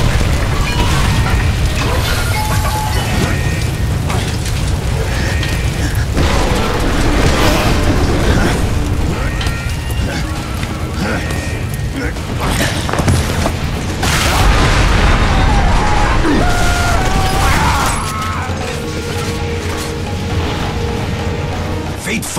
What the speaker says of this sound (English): I predict an imminent detonation within the gravity core generators